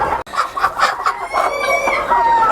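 Expensive fancy chickens of an Indian breed cluck loudly and repeatedly up close on a poultry farm in Rajbari, Bangladesh, in a busy, continuous run of calls with a crowing note mixed in.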